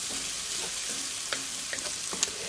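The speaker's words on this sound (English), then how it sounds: "It's on quite a high heat at the moment, just so that we can caramelise and then soften the onions and the garlic" Onions and garlic fry over high heat in a pan, giving a steady soft sizzle with a few light clicks from stirring scattered through it, close and continuous with no talking.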